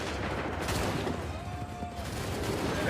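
A musket volley during a battle in the video game Assassin's Creed 3, a continuous rough crackle of gunfire with scattered booms, loud and close, with faint voices in the mix.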